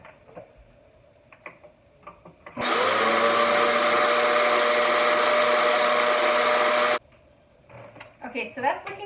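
A kitchen blender puréeing butternut squash soup runs loud and steady for about four seconds, starting and stopping abruptly, with quieter kitchen sounds before and after.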